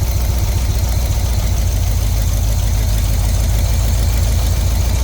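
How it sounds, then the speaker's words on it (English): A Pink Jeep engine with an exhaust leak and rattling lifters idles steadily up close, a loud continuous low rumble with a fast ticking clatter running through it. No voices. "you can hear a rackety tackety cack of the lifters"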